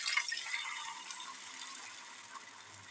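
Water is poured into a pan while Chinese chicken balls are cooked, giving a faint, soft splashing rush that is strongest at first and then tapers off over a few seconds.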